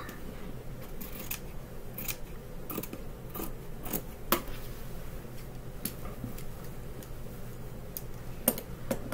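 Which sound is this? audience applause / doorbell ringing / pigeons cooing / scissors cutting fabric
scissors cutting fabric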